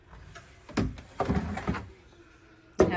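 A plastic organizer drawer slides along its runner in a few short, scraping pushes, ending with a sharp knock as it stops.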